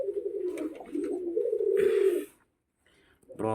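Karna pigeons coo in a coop, a loud close run of low rolling coos lasting about two seconds, then a brief pause before another cooing burst starts.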